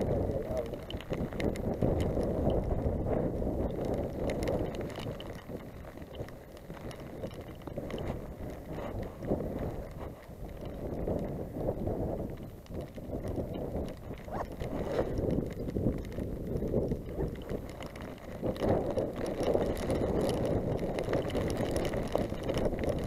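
Strong wind buffets the microphone high on Moel Siabod, a wet, windy mountain, a steady low roar with gusty swells throughout, loud and close with no voices.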